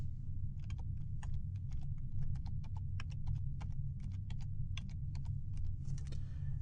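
A trial key being typed on a computer keyboard, a steady run of quiet, close key clicks over a low constant hum.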